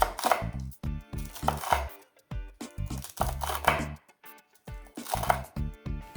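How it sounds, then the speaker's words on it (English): Cooked bacon is crumbled by hand in short bursts of crisp crackling and rustling, several separate crunchy handfuls with brief silences between them, close and clear with no talking. "Crumble the bacon."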